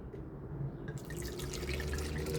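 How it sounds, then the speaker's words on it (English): Water poured into a cooking pot for corn, a steady wet splashing that grows fuller and brighter partway through and keeps running to the end, close and fairly quiet. "I'm gonna be adding a little bit of water"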